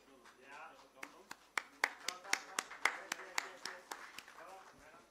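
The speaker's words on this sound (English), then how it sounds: "can we have a huge round of applause while they're walking up on stage" Scattered clapping at a listing ceremony for an infrastructure investment trust: a few sharp, separate claps that start sparse, quicken into a loose rhythm near the middle and then thin out again, with faint murmuring underneath.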